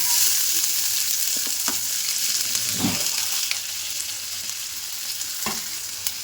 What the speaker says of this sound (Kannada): ಎಣ್ಣೆ ಬಿಸಿಯಾಗಿದೆ ಈಗ ಹೆಚ್ಚಿರೋಂಥ ಈರುಳ್ಳಿ ಹಾಕ್ತಾ ಇದ್ದೀನಿ